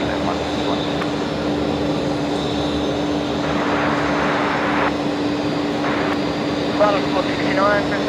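An Airbus A320neo jet departing runway 01 right at Brisbane Airport at night, a steady broad engine roar throughout with a constant tonal hum, heard under air traffic control radio chatter.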